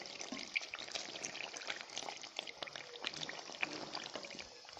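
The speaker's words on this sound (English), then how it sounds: "I'm about to stir my stew, but I will take my time to stir it." A pot of egg stew being stirred, with soft wet scraping and bubbling that runs steadily and close throughout, at a moderate level without any talk.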